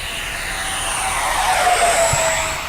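A 64mm Arrows Hobby MiG-29 Fulcrum RC jet running on a Spektrum 4000 lipo pack flies past with a steady, airy high whine that swells a little as power comes back in, then eases, with no talk over it.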